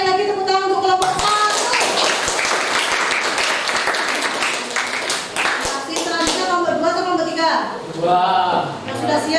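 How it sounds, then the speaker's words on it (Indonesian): Classroom clapping for a student group after a presentation, a loud, dense round of hands with children's voices and chatter running over and through it for several seconds. "Sekali lagi tepuk tangan untuk kelompok 1"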